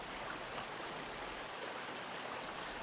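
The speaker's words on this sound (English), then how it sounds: "I'm gonna turn the river sounds down a little bit." Steady, broadband rushing of a flowing river or stream, a continuous soft wash of water with no pauses or distinct events, fairly faint and heard alone throughout.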